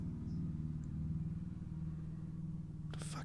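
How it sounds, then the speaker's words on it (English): A loud car rumbles past outdoors with a deep, steady engine drone that holds throughout, and a brief sharper noise comes near the end. "a very loud car just drove by me"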